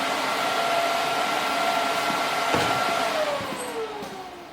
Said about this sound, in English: I'll grind that up and make it look good.